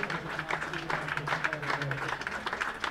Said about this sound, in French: Elles applaudissent le public. Voilà les gens qui les félicitent.